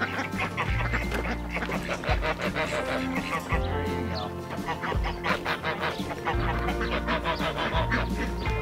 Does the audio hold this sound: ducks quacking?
yes